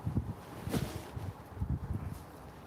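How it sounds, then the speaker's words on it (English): Strong wind buffets the microphone outdoors in low rumbling gusts that rise and fall throughout, close and steady with no speech. "The wind is getting buck wild."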